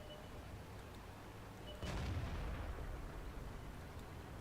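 A single artillery shot in the World of Tanks tank battle game lands as one fairly distant boom, its rumbling tail sustained over a quiet background.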